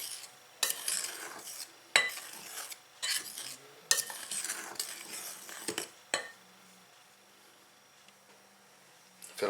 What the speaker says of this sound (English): I'm going to give it a dry mix first. Just get the talc and the talcum powder and the aluminium oxide mixed together.